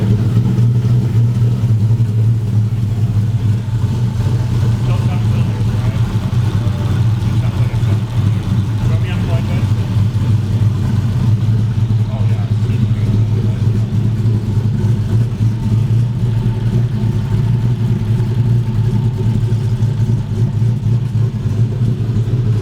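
A supercharged Toyota 1UZ V8 in a drift truck runs loud and steady close by, a dense continuous engine rumble with little variation in revs throughout.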